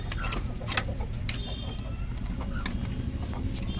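Pigeons released from their coop alongside chickens, with cooing and flutters over steady outdoor background noise at moderate distance.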